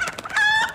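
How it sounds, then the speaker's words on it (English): A live chicken lets out a single short, loud call close by, a bright rising squawk lasting under a second with nothing else around it. "Alive chicken!"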